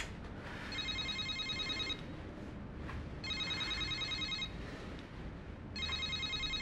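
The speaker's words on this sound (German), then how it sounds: "Mein Telefon." A telephone rings indoors in a crime drama, sounding in three separate bursts of electronic trilling with short pauses between them over a low background hum.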